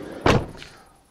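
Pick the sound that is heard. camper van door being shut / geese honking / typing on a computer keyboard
camper van door being shut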